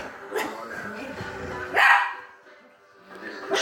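A dog barks in a few sharp, close bursts, separated by quieter gaps, indoors during a playful struggle over a shoe.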